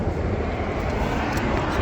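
Starter cranking on a Honda Civic EF sedan, a steady broadband churning roar held evenly for nearly two seconds at close range, with no voices over it.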